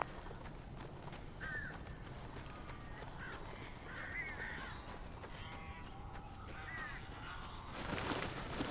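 Several scattered crow-like caws from birds in the Alan Wake video game, moderately loud over a steady background ambience, with a brighter burst of noise near the end.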